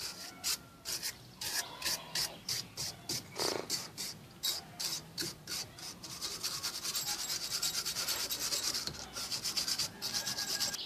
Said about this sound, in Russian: немножко почистим барабан